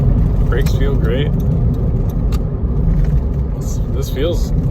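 A 1995 Toyota Hiace Super Custom LTD van drives along with a steady low engine and road rumble filling the interior, while a voice talks over it now and then.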